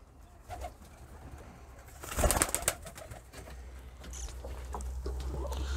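Hrubieszów pigeons, blue and white-flighted, coo softly in a loft, low murmuring calls with a brief louder flutter of activity midway, heard alone without speech.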